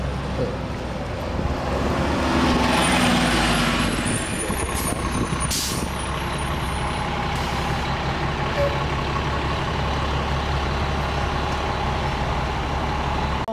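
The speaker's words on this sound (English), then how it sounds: "here comes a bus to mow us all down" A bus rumbles past close by on a street in the Philipse Manor historic district, a loud broad roar that swells and holds, with a brief air-brake hiss and beeps above the traffic noise.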